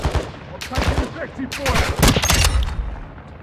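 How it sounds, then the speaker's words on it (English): Rapid gunfire bursts and fusillades crackle loudly through a first-person video game shooter firefight, dense and close, with overlapping shots and game noise filling the moment. "Oh shit, oh shit, I'm getting shot at big time."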